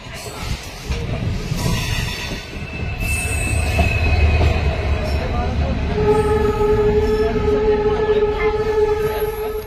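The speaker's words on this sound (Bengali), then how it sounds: "এখন হাওড়া থেকে আমাদের ট্রেন ছাড়ার পর আমরা এখন মন্দির উদ্দেশ্যে রওনা দিলাম।" A train pulling out of Howrah rolls along the rails with a steady low rumble, metallic wheel squeal and sustained high tonal screeches rising over the din, loud and continuous from inside the moving carriage.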